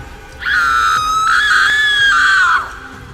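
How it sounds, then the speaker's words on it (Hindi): A witch's shrill, sustained scream as she burns in a fire, a single drawn-out wailing cry lasting about two seconds, loud and alone, for a horror story effect. "अंतिम बार उसने चीख कर कहा"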